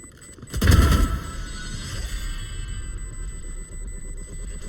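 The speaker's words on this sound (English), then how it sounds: "Flashbang." A flashbang grenade in a shooter game bursts with one sharp loud bang early on, followed by a lingering high ringing tone and muffled rumble that fades slowly.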